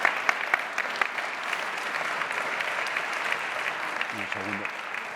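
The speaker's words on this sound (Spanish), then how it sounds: "Creo que por todo ello merece un aplauso" Steady audience applause at a Salamanca forum on the new agricultural policy, a dense even wash of clapping with a brief voice near the end.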